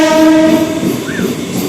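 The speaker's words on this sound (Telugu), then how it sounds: "మనమైతే ఒక ట్రైన్ని పాస్ చేస్తున్నాం" The Gautami train passes close by near Nidadavolu, a loud horn blast ringing out at the start over the heavy roar of wheels and carriages, then fading into continuous rattling rumble.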